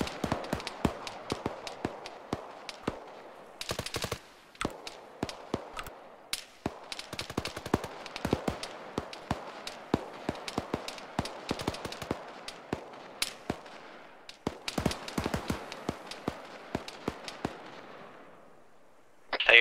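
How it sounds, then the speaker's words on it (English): Weapon fire in the video game Arma 3, a long run of sharp cracking shots, some distant and some close, popping irregularly with bursts and pauses throughout, ending on a loud report. "Taking fire from the weapon."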